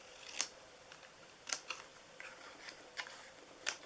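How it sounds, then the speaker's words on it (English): Paper being cut by hand with scissors, a few crisp snips spaced apart, close and quiet in an otherwise still room. "we're just going to cut those out by hand"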